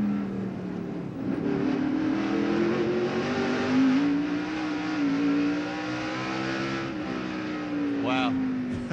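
NASCAR race car at the finish of the 1996 Hanes 500, heard from an in-car view: a loud, steady engine roar whose pitch rises and falls through the shifts, with crowd and announcer talk underneath.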